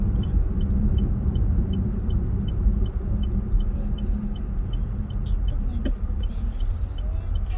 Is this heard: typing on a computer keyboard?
no